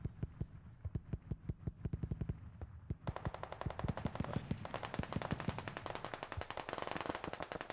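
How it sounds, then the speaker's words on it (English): Rapid gunfire from HQ in the video game Squad rattles in quick bursts of sharp, repeated shots, quieter and more distant at first, then denser and louder after a few seconds, continuing throughout. "Do we hear some shots going out from HQ?"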